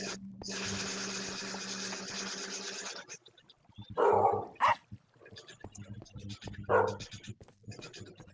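A dog in Minecraft barks in a snow biome, a few sharp yips over a steady mechanical hum, with game sounds and intermittent talk around them.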